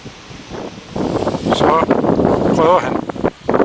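Strong wind buffets the microphone at a paragliding launch site above Alcudia, Mallorca, roaring and gusting unevenly, while someone speaks over it.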